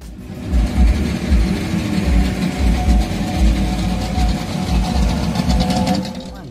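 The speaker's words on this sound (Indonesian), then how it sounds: "khas mesin 2 tak, agak berisik" A loud, buzzing two-stroke engine of a Suzuki ST10/ST20 car runs steadily close by, with a rattly, pulsing idle rhythm.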